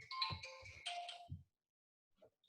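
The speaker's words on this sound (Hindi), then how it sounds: "एक सेकंड, फोन आ रहा है, एक सेकंड।" A phone ringtone for an incoming call plays a short, bright melodic phrase of several tones, fairly close and clear, then stops, followed by near silence and a faint tap.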